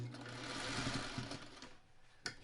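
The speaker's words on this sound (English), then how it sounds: "now I just sew a little bit" A sewing machine stitches quilt pieces in a brief, close whirring run that slows and stops, followed by a sharp click.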